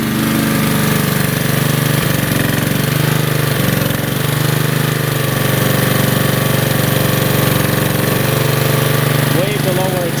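Lawn mower engine held at wide open throttle, a loud, constant buzzing drone with a knocking rumble close by, its pitch barely changing, as a voice speaks briefly over it near the end.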